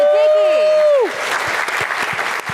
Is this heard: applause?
yes